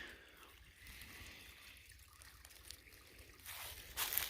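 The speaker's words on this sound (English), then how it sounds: "Beautiful little stream." A small creek trickles and splashes quietly near a washed-out culvert, a soft continuous burble with a brief brighter splash toward the end.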